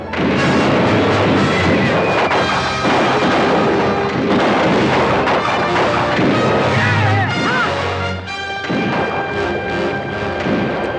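A gunfire volley erupts in a 1964 western film battle, with dense overlapping rifle shots, booms and crashes packed into a loud, continuous roar beneath shouted voices and faint music.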